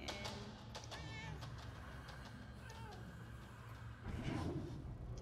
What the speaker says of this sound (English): what is the point of the meow option if everybody ignores you?